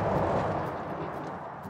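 Two explosions set off by a trigger on a ride in the theme-park game Planet Coaster, a dense, rumbling, broadband roar that holds at a steady loudness throughout with no pause.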